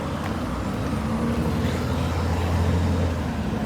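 Steady street traffic at a crossing with traffic lights, a continuous rumble of car and truck engines idling and moving close by, with no talk over it.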